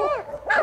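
A Central Asian Shepherd dog at a home near Gilau, Cluj gives two quick, close, loud barks, the second rising into a yelp.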